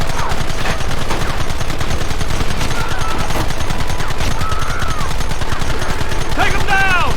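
Gunfire in Red Dead Redemption rattles without pause, dense rapid shots layered from several guns, loud and close, while voices shout over the battle.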